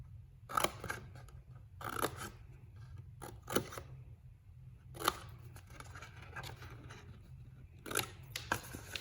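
Paper being snipped with scissors while making a Halloween treat box, a handful of short crisp cuts spaced out in small bursts, close and fairly quiet with no talking.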